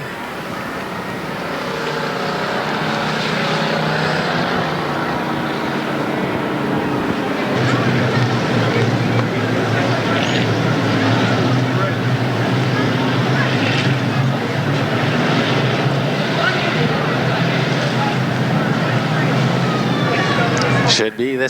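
Stock cars racing around an oval speedway at a 1988 Winston West Bomber Series main event, a loud continuous engine roar from the pack that swells as the cars pass, with a race announcer talking over it.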